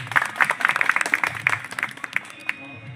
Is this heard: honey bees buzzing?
no